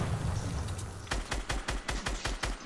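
Grenade launcher rounds fire in a quick run of about eight rhythmic thumping shots in Fortnite Battle Royale, preceded by a second of muffled game noise, loud and close.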